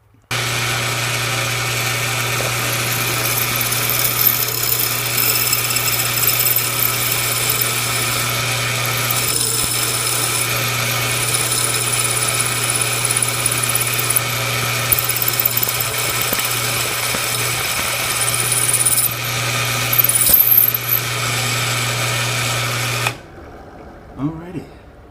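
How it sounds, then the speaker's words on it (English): A power drill fitted with a larger drill bit runs steadily with a buzzing, whining drone for more than twenty seconds. The drone wavers a little under load and then cuts off abruptly. "I'm gonna get the next drill bit size up."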